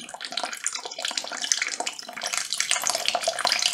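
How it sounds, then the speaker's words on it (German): Water drains from a clogged Siemens washing machine with error F18, a steady hissing gush that rushes and splashes continuously, close and fairly loud, with no talking. "Jetzt warten wir, bis das Wasser komplett abgelaufen ist."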